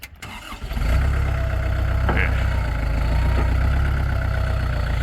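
A Kubota L4708 four-wheel-drive tractor with a four-cylinder direct-injection diesel fires up and settles into a loud, steady, rumbling idle close by.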